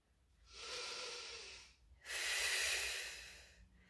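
Two long, forceful breaths during a Pilates stretch, each lasting over a second, close and airy with a brief pause between them and no speech.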